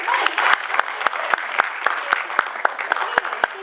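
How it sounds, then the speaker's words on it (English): A panel audience at a comic convention applauds in a brief round, with sharp separate claps spaced fairly evenly over a soft crowd bed. "Round of applause for Elonka"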